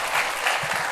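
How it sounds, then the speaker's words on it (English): Brief burst of audience applause at a live All-In event in Miami, dense and steady through the moment with no break. "I appreciate your applause"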